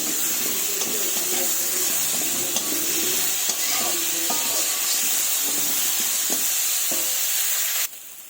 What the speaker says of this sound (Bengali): এবার আলুগুলো আমি লাল লাল করে ভেজে নেব